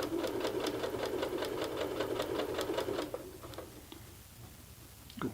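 A sewing machine stitches a curved skirt waistband, running in a fast rhythmic clatter of needle strokes for three seconds, then slowing to a few scattered ticks.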